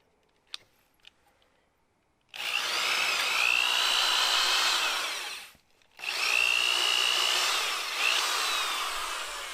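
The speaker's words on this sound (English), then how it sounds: "I used a hole saw so that I'd have a nice curve on the back side of my notches" A hole saw bores notches into a pressure-treated wooden sill plate in two loud sustained bursts of whining, grinding cutting, separated by a brief pause, after a few faint clicks.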